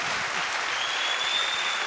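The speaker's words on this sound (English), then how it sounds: "You hear the crowd there" Squash crowd at the 2016 World Series Finals applauding steadily after a brilliant rally, a dense, even wash of clapping heard from a distance with no talk over it.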